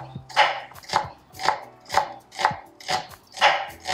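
A knife chops onion into thin slices on a board for a Georgian eggplant salad, eight evenly spaced crisp strokes close by with no talking.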